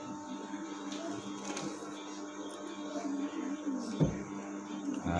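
A sewing machine stitches a foam-lined kemben bra cup, newspaper layered under the presser foot, giving a steady mechanical whir of moderate loudness with a few small knocks and no voices.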